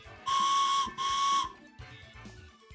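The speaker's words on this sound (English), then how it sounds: "You are not whistling correctly, stupid train whistle." Steam train whistle in the Pokémon Scarlet & Violet video game, two loud sustained shrill blasts followed by softer, fainter whistle tones, with no talking.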